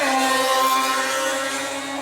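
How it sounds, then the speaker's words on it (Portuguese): A motorcycle engine passes by outdoors, heard as a steady droning buzz with a sustained pitched hum that slowly fades as it moves away. "Moto passando."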